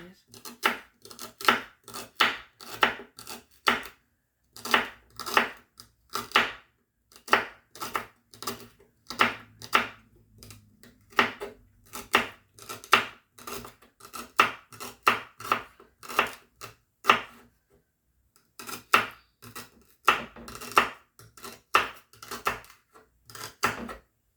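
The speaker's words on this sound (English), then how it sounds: "I'm gonna chop them up into little pieces." A knife steadily chops three celery stalks into little pieces on a board for chicken pot pie. The strokes are close, quick and rhythmic, come in bursts with brief pauses, and run throughout.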